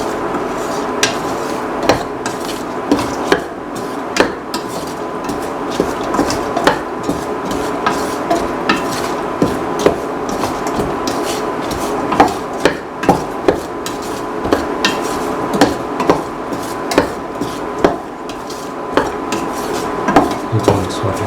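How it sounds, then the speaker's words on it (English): Potato pieces are stirred with onion, shallots, garlic and ginger in a pan, a metal utensil repeatedly scraping and knocking against the pan over a low steady sizzle, close and persistent with irregular taps. "Mixing the potato pieces with the onion, shallots, garlic and ginger."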